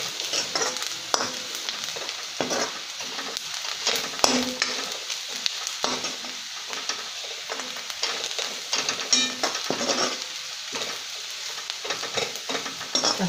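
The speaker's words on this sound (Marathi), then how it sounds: "सुकं खोबरं भाजायला वेळ लागत नाही, ते पटकन करपतं," Dried coconut roasts in a pan for Katachi Amti, a steady dry sizzle broken by frequent scraping strokes of a spoon stirring it, close and continuous.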